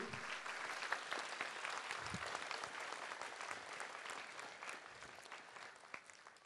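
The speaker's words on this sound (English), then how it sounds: "A big round of applause to all of you." An audience claps steadily, a dense continuous patter of many hands, fairly distant and even in volume, slowly tapering toward the end.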